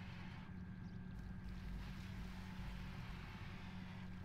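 Boat engine in Grand Theft Auto V, a low, steady droning rumble with water and wind noise, faint and continuous throughout.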